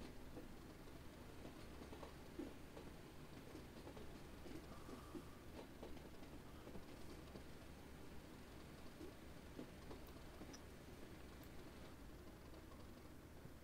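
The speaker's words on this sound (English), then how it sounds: "Let me just start the train here." Train in the Train Simulator 2020 video game on the Lowestoft to Norwich line, a faint, steady low rumble with light rail clatter and occasional small clicks, no talking.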